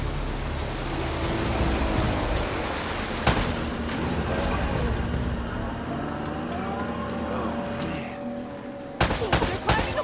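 Gunfire in the video game Uncharted: Drake's Fortune, dense rattling shots layered over a loud roaring rumble, with a few sharp louder cracks near the end.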